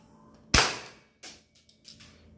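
A QGK S92 airsoft pistol fires a single sharp, loud crack as the shot hits a sack, followed by a softer thump and a few faint rustles. No one speaks.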